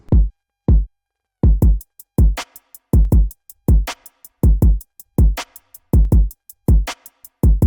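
A hyperpop/glitchcore drum pattern with punchy kicks and snare hits plus crisp ticking hi-hats, rhythmic and dry with silent gaps between hits, loud and up front with no voices.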